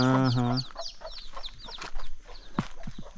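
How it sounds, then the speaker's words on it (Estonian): A hen clucks close by with her chicks, a short burst of clucks followed by soft scattered chick peeps and movement. "See on ikka kana, eks ju? Jaa, see on kana."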